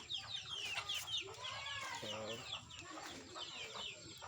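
Native chickens on a small farm cluck and chatter close by in quick overlapping calls, with a faint voice and general yard noise in the background.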